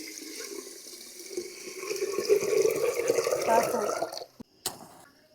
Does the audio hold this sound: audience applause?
no